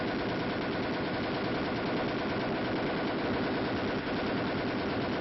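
An M73 7.62mm tank machine gun, a lightweight air-cooled, recoil-operated automatic weapon, fires a dense continuous burst, a rapid unbroken roar that keeps a steady loudness throughout, with no voices.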